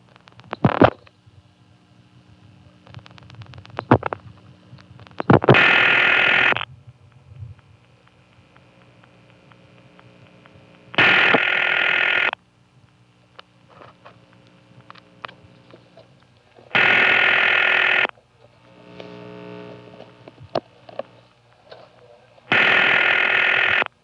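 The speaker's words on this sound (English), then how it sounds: "I'd planned to dial 64822, but I only got as far as 2 and hit a vacant level, which was once again going to operator intercept." A 1970s rotary payphone on a step-by-step exchange in Greenfield, Massachusetts, with a few dial pulses and clicks, then a vacant level that reaches operator intercept: loud repeating tone bursts about every six seconds, separated by quieter line noise.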